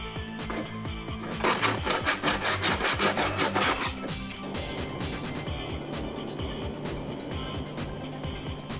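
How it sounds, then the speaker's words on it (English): Someone sands a wooden woodworking project by hand, made with grandkids. The rapid rhythmic scraping strokes grow loud and vigorous for a couple of seconds, then settle into lighter, steady rubbing. "We are now sanding the project we made"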